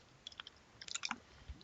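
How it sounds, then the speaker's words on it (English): Faint chewing from someone eating near the microphone during a gaming session, soft wet clicks and bites in two brief clusters with quiet between them. "Sorry for the chewing noises in the background. I am eating a little bit."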